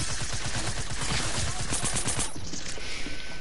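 Rapid bursts of video game gunfire rattle loud and close, a dense fusillade of overlapping shots that runs the whole time and thins slightly near the end.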